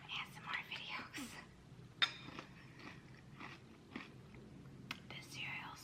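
Crunchy cereal eaten close to the mic in a home, soft crunching bites and chewing interleaved with quiet whispered talk, one sharper crunch standing out.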